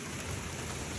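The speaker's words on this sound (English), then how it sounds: "Look at all this freaking rain." Heavy rain pouring down outside a house during a sudden storm, a dense, steady broadband hiss of rainfall close by with no gaps, filling the whole second.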